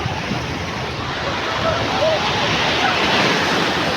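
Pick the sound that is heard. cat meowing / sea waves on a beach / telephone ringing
sea waves on a beach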